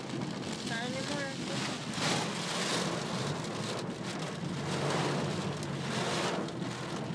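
Heavy desert rain pours in a dense, steady roar of drops drumming close by for the whole stretch, with a faint voice briefly heard early on.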